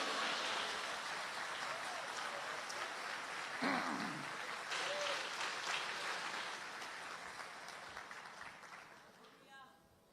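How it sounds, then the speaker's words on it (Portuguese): A church congregation applauding during a sermon, a steady wash of clapping that fades gradually over several seconds, moderately distant with faint voices mixed in. "dá uma salva de palmas para o Rei"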